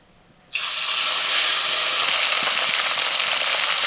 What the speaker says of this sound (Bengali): তেল ভালো করে গরম করে নিয়ে এবার মাছ ভেজে নিচ্ছি।